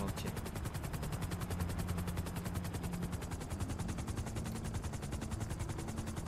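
Rapid automatic gunfire in GTA V Online rattles continuously at a steady fast rhythm, layered over a loud aircraft engine drone.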